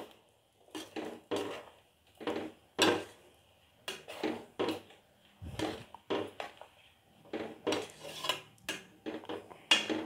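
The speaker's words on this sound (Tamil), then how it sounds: "போட்டுட்டு இந்த மாதிரி கலக்கி விட்டுக்கலாம்." Metal utensil clinking and scraping against a pot while stirring a flat-bean (thattaikkaai) curry, in irregular bursts, close by, with no talking.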